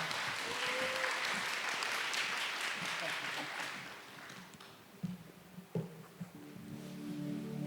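Audience applause at a village festival reading event, a broad wash of clapping for the first few seconds that fades, followed by a few scattered sounds and faint voices under low music.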